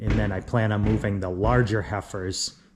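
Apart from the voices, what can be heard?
No distinct noise like a dog, phone or traffic.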